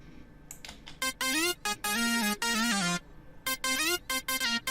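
A bright, unprocessed Ableton synth lead plays a quick melodic phrase of short stabbed notes with gliding pitch, dry and close, with brief gaps between bursts.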